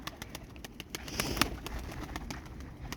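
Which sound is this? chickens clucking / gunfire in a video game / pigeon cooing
pigeon cooing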